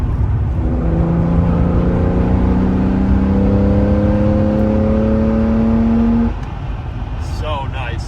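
A 1977 Porsche 911S Targa accelerating on the road, its engine pitch rising steadily and loudly for about six seconds before dropping off, heard from inside the car under constant road roar.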